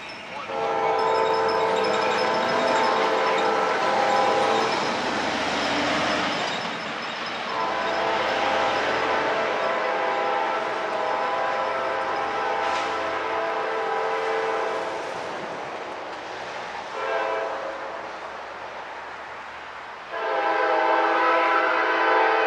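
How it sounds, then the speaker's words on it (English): A passing train sounds long, loud horn blasts close by, holding for several seconds at a time and repeating after short breaks, over the steady roar of the rail cars. "Well, here come the fire truck and the train."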